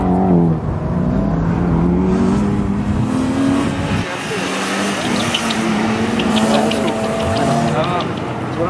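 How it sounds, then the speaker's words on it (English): A car engine roars loudly and steadily throughout at an autocross timed race in New Jersey, with people talking over the noise. "Engine noise, so loud."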